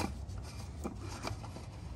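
An oil filter on a Mercedes E350 V6 (W212) is threaded back on by hand, giving quiet, close rubbing and scraping in short rhythmic turns, with no one speaking.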